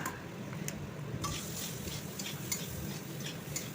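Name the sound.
potatoes being fried until browned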